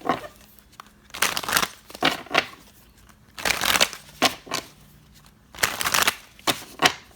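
Tarot cards being shuffled in bursts of dry papery riffling and slapping, several separate rounds with short pauses between them, close and fairly clear with no talking.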